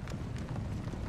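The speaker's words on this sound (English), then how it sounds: "Oh, the cavalry is coming." Cavalry horses charge in the video game Napoleon: Total War, a dense low rumble of galloping hooves that is continuous and fairly loud over a short stretch.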